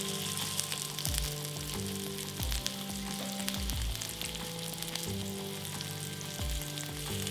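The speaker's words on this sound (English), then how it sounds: "Listen to that sizzle." Tri tip steak sears in a hot pan with canola oil, a loud, continuous close sizzle and crackle with steady spattering throughout.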